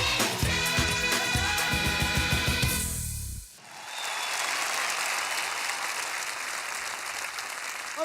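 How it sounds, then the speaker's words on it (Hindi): Audience applause breaking out at a Hindi singing show after music stops abruptly, a dense, steady wash of clapping that carries on evenly to the end. "एक बार जोरदार तालियां इनके लिए होनी चाहिए"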